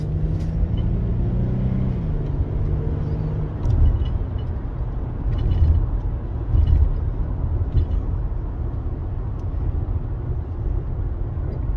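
An Infiniti G37 with the muffler deleted idles with a deep, loud rumble, then revs up briefly in a few swells before settling back to a steady drone.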